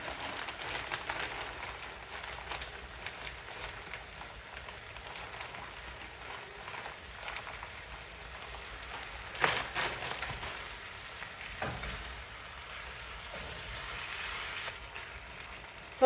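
Food gently simmering in a pan for a tater tot casserole, a steady soft bubbling sizzle that continues throughout, quiet and close, with no talking.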